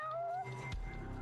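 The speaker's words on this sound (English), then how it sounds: "there's a cat to find, because I always hear meowing" Video game cat meowing, several rising and falling meows close up, followed by a lower drawn-out sound, with no talking.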